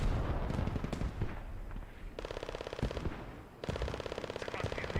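A PPSh submachine gun fires in a video game, with rapid, rattling automatic bursts, two long sustained strings of shots over distant gunfire and crackling battle noise.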